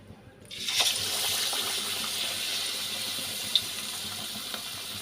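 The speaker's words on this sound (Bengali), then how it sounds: "দেখো বন্ধুরা, তেলটা গরম হয়ে গেছে, এবার আমি একটা উইংস ওতে তুলে দেবো" Chicken wings drop into very hot oil and set off a sudden loud sizzle and hiss that holds steady, close by, with a small pop partway through.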